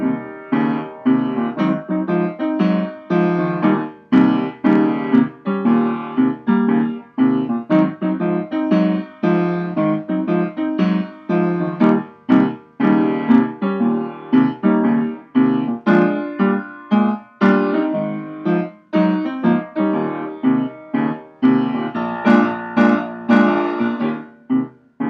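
A piano plays a steady twelve-bar blues accompaniment on the black keys, with rhythmic, evenly pulsing chords that are loud and close and heard alone for the whole passage.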